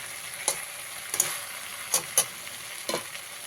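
Vegetables and melted tomato sizzle in a pan for a fish, tomato and kohlrabi sour curry, with a steady soft fry broken by four or five scraping stirs of a spoon.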